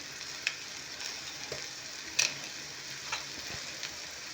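Egg-dipped bread with cheese, green onion and spices frying in a pan, giving a steady low sizzle with a few brief crackles and pops, heard close and alone.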